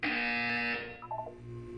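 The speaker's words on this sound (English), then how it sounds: "You will hear a buzzer." A loud, steady electronic buzzer tone from the Portal 2 video game sounds alone for under a second, then gives way to a short run of softer stepped tones.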